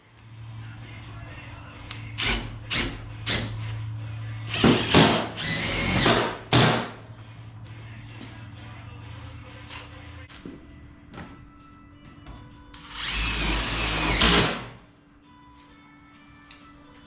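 A power drill drives screws into custom flush fender skirts on a car in a workshop, with several short whirring bursts and a longer run near the end. Scattered clunks sit among the bursts and a low hum fills the first part.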